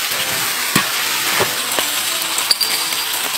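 Curry aromatics such as scallion, ginger, garlic, Sichuan peppercorn, star anise and dried chili stir-frying in oil in a wok, with a dense steady sizzle and a few sharp spatula scrapes and clinks, close up, no talking.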